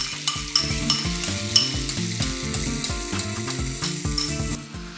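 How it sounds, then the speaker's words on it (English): Chopped ginger, garlic and chili sautéing in a hot wok for a vegan cauliflower Manchurian, a steady sizzle with stirring scrapes, heard under prominent tonal background music. "ginger, garlic and chili and saute really well for about 30 seconds"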